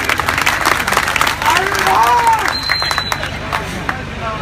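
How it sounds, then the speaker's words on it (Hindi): Political rally crowd in India claps and cheers loudly, with a mix of applause, shouts and babble, and a whistle-like tone rising briefly over the noise. "अगर मैं कुछ अच्छा कह रहा हूं तो तालियां बजाकर मेरा स्वागत करेंगे।"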